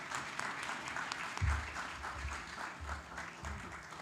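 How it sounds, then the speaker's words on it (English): Audience applause at an entrepreneurship and innovation event in India, a steady round of clapping from a crowd at moderate distance, with a few low thumps. "Let's do a big round of applause for him."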